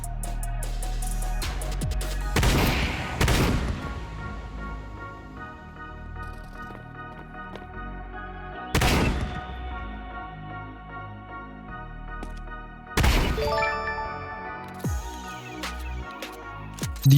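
A wide-spreading gun in Counter-Strike 2 fires a few loud, booming shots, a close pair first and then single blasts spaced several seconds apart, over steady tonal game background sound.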